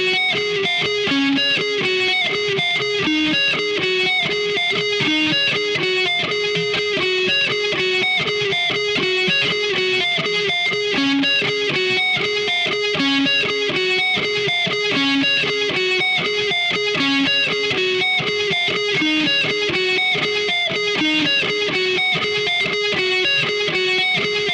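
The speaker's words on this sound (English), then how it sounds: "And a solo on the guitar sounds something like this." A Donner HUSH X Pro electric guitar plays a continuous distorted solo with dense, sustained lead notes, loud and steady throughout with no talking.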